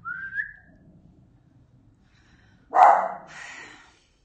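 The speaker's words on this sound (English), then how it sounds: "Dog barking also stresses me out a bit." A whistle sounds first, then after a quiet pause a dog gives one sharp, close bark followed by a softer trailing yelp.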